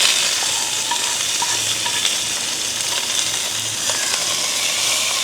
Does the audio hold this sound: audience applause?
no